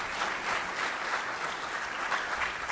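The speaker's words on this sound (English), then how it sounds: "You guys deserve a round of applause." Steady applause from an audience at a talk, a dense even wash of clapping that continues throughout at moderate loudness with no voice over it.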